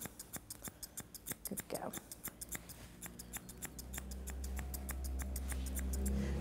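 Rapid, steady scissor snips trim a Labradoodle's fur around her face during a grooming session, close and crisp, with a brief soft spoken word partway through and a low hum rising toward the end.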